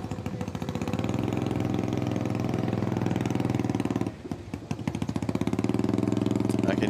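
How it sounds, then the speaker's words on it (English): Unmuffled motorcycle exhaust at a Harley-Davidson hill climb: a loud, steady, throbbing engine drone holds throughout, dips briefly near the middle, then surges back strong and close. "I can hear an exhaust in my ear right now that sounds like it's got no muffler."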